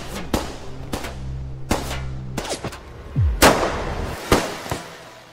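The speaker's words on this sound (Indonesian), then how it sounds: "menyuruh anak buahnya menyerang Will, sehingga terjadilah baku tembak." An action-film gunfight brings sharp, loud shots and cracks in an irregular exchange, single reports spaced apart with one heavier blast and ringing tails, no voices.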